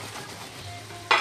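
Baby octopus sizzling in a frying pan as rosemary goes in, a soft steady fry that flares into a brief louder hiss near the end.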